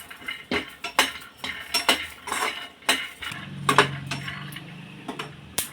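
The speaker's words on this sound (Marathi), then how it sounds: "शेंगदाणे घेतले आहेत पाववाटी खोबऱ्याचे काप करून घेतले आहेत ते आपण भाजून घेणार आहोत" Peanuts and coconut slices dry-roasting in a pan, with a run of clinks and scrapes from a spoon stirring against the metal and a soft low rumble through the middle. Nearby and moderately loud, with no talking.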